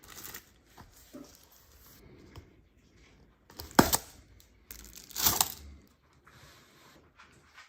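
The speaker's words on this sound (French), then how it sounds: "Déballage." Knife packaging being opened near the mic: soft rustles, scrapes and a couple of louder sharp crinkling bursts, scattered and intermittent among quiet gaps.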